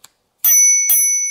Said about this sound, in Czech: to je nejstylovější zvonek Uno Momento